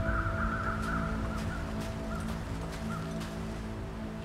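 Crows caw faintly in the distance several times across an ambient wilderness soundscape in the survival game The Long Dark, set on a snowy mountain, with a steady low wind bed underneath.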